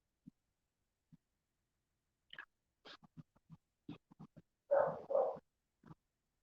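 A few scattered dog barks and yips, fairly quiet, with two louder barks close together near the end.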